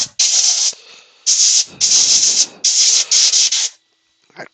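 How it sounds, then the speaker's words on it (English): Compressed air blasts dust out of a sanded wood piece in loud, close hissing bursts of about a second each, separated by short gaps. "We'll blow the dust out of it."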